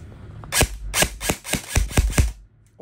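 An E&C HK M1101 A1 airsoft rifle fires a quick string of about eight sharp test shots up close, evenly spaced cracks with no talk over them.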